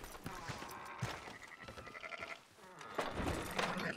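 Sheep bleat in a Red Dead Redemption 2 game scene, several moderately loud bleats over game ambience and other low sounds, with someone speaking briefly.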